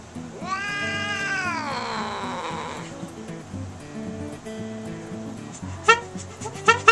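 A cat yowls at a horn in one long, loud, drawn-out wail that bends downward, followed by quieter murmurs and a few sharp knocks at the end.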